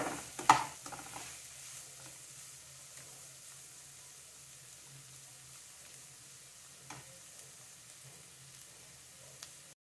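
Onions frying in a pan until golden, a faint steady sizzle with a clack of a utensil at the start and occasional soft stirring sounds.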